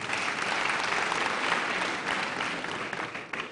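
An audience at an e-learning week conference breaks into steady, dense applause that fills the whole moment, loud and sustained with no voices on top.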